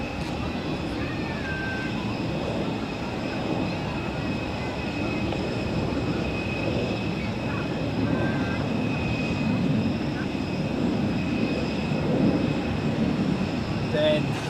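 Aircraft at Zurich Airport produce a steady, broad engine roar that holds without pause from start to finish, fairly loud and unbroken.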